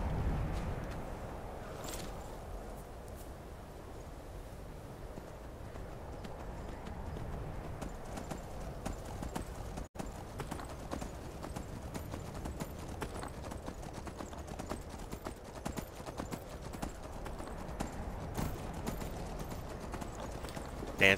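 Horse hooves in the video game Skyrim clip-clop in a steady, even rhythm throughout, close and clear, with no talking over them.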